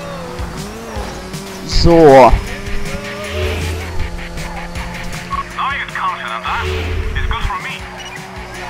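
Car engine revving and tires squealing through a street race in Midnight Club Los Angeles, with a sharp skid burst early on, then steady engine drone and more squeals, under occasional talk.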